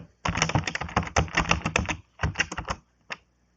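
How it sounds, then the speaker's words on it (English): Password typed on a computer keyboard, rapid close clicking keystrokes in quick bursts with short pauses, ending in a few isolated taps. "You want to type the password and then retype it."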